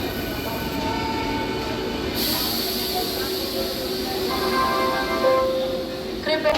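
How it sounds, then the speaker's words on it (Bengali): A Jasidih–Asansol MEMU passenger train runs along steadily with a close, continuous rolling rumble and hiss, and a thin wheel squeal rises briefly near the end. "যোশিডি থেকে আসানসোল অভিমুখে ছেড়ে গেল সকাল দশটা বেজে সাতাশ মিনিটে"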